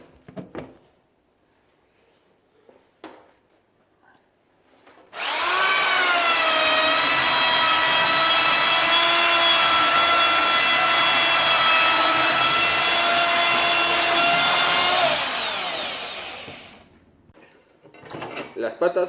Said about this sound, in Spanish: Y ahora pasaremos la lijadora.